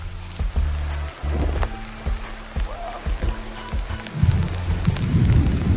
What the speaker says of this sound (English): So I am out here in the rain and pouring rain to get this video for y'all.